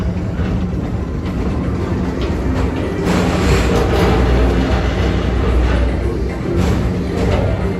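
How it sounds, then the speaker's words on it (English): The PeopleMover ride train at Magic Kingdom, Walt Disney World, rolls steadily along its track at night with a continuous rumbling whir and faint clicks, close and fairly loud throughout. "your express train keeps on rolling through the future"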